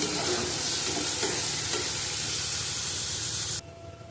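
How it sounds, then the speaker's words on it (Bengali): Ginger paste sizzles loudly in a hot pan while a spoon stirs it steadily, a dense, continuous frying hiss with soft scraping that drops away abruptly near the end. "আদা বাটা দিলাম হাফ চামচ হাফ চামচ থেকে একটু কম ভালো করে আবার কষিয়ে নেবো"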